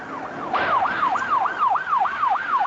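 A police siren wails, sweeping up and down in rapid, regular cycles during a car chase, loud and steady over road noise from a vehicle moving at high speed.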